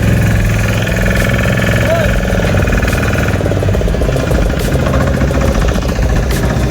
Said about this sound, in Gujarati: તો મિત્રો બોટ ચાલુ થઈ ગઈ છે.